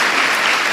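A church congregation breaks into dense, loud applause, a continuous wash of many hands clapping together at close range for under a second, with no speech over it.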